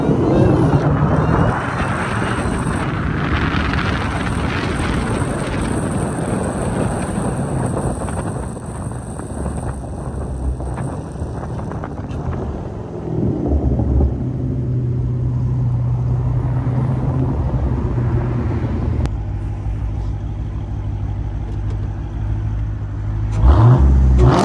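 A Jeep Trackhawk at night builds a loud, sustained supercharger whine while accelerating, with heavy engine roar and wind rush throughout and a brief drop near the end before it surges again.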